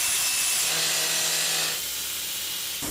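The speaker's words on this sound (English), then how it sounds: "What we have now is the drilling operation to separate the top of the footprint rock away" A drill grinds steadily into a large footprint rock at a construction site to separate its top from the base, a faint, continuous mechanical whine that drops slightly in level partway through.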